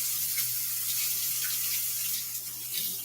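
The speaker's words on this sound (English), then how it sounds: "So I'm going to get this wet with water." Tap water runs steadily onto a cleaning cloth to wet it, giving a continuous close hiss at an even level with no talk.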